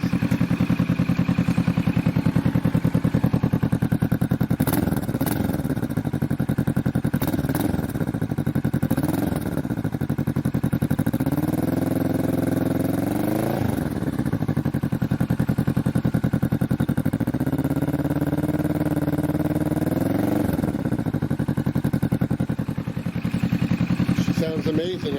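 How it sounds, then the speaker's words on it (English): A 2020 Kawasaki Vulcan S fitted with a cheap full aftermarket exhaust idles with a deep, throaty burble, then is revved twice in rising, roaring pulls that drop back to idle. "we're going to go ahead and give it a couple of revs and see how she sounds"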